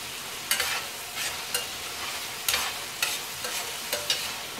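Food frying in a pan while being stirred, a steady hiss punctuated by regular scraping strokes roughly every half second, close and clear with no talking.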